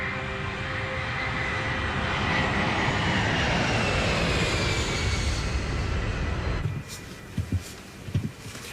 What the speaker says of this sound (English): I can see the other planes are taking off.